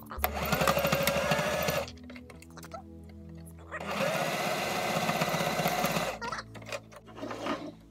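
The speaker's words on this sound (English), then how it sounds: "I'm just using a small straight stitch for the nose." Sewing machine running a small straight stitch in fabric, a steady buzzing whir in two long bursts separated by a short pause, with a lower hum between them and a brief restart at the end.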